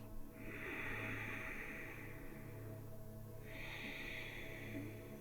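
Two long, slow breaths during a yoga stretch, each a steady airy hiss lasting around three seconds, close and fairly soft over a low hum, with a quiet pause between them.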